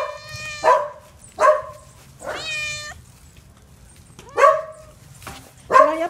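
A dog's high, yelping barks come in separate bursts, about five across the clip at close range, with no talking.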